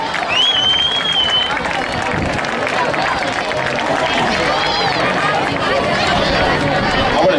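Sustained applause and cheering from a crowd at an associations fair in L'Olleria, 2017, greeting young girls about to dance. The clapping is dense and steady throughout, with voices and chatter mixed in over it.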